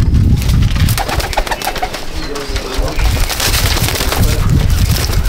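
Pigeons coo in a loft, a low steady cooing that runs throughout with a busy, close background and some faint knocks.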